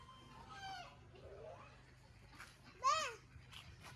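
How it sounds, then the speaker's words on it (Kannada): A black chicken clucking nearby, with a few soft, scattered calls and one sharper, louder squawk near the end over a quiet background. "ಬ್ಲ್ಯಾಕ್ ಕೋಳಿ. ಇದು ಚಿಕನ್ನು ಬ್ಲ್ಯಾಕ್ ಆಗೇ ಇರುತ್ತಂತೆ."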